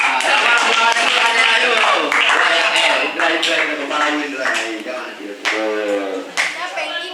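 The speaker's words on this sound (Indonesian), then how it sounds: "beri aplaus untuk tim kontra" Loud, dense applause from a school debate audience for the opposing team, sustained clapping close and even throughout, with voices mixed in underneath.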